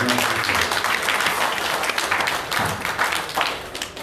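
Congregation applauding at a Haitian church service, a dense steady wash of clapping that fills the whole stretch, with some voices mixed in and a slight fade near the end.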